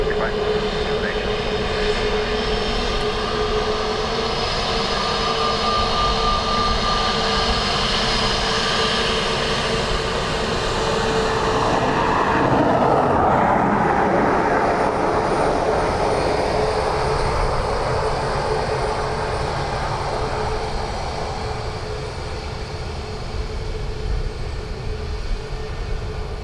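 A Ryanair airliner lands on runway 28 left at Dublin Airport, its engines a loud, sustained roar that swells in the middle and then fades, with radio chatter heard beneath.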